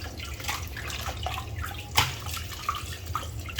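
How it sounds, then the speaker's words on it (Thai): Water running and splashing as raw pork neck is rinsed to wash off dust and debris, a steady moderately faint flow with a brief sharper splash midway, no talking. "เราก็ต้องทำการล้าง ล้างเอาเศษ ฝุ่นเศษผง นะครับ"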